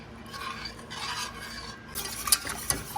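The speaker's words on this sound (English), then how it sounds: "I wanted to show you that I switched from that spoon to a whisk" A whisk stirs gravy in a pot over medium heat as it comes up to a simmer, soft scraping swishes with a few sharper clinks of metal against the pot near the end.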